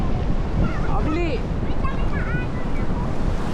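Strong rushing water pouring at a dam where people swim, a loud steady roar close by with faint voices and shouts underneath.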